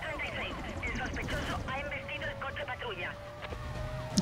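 Police car sirens wail and warble in the racing game Need for Speed Most Wanted during a pursuit, mixed with engine and crash noise, while a player talks over the chase.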